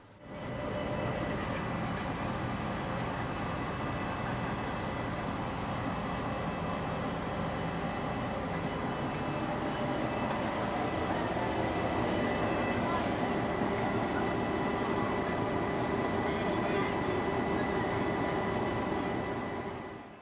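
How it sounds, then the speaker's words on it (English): DFB 7213, a diesel locomotive on a weekend excursion, roars loudly and continuously from inside the cab, a dense, steady engine drone that holds for the whole stretch and swells slightly toward the end. "the locomotive was so loud that me and my mates could hardly hear ourselves think"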